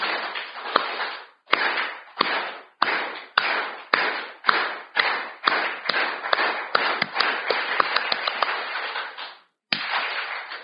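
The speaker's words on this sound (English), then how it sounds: "can I ask you to do me a favor and clap your hand in sync with me and the others" A large audience at the ICCI 2024 inauguration claps in unison, sharp synchronized hand claps in a steady rhythmic series, loud and close, with a brief pause near the end before clapping resumes.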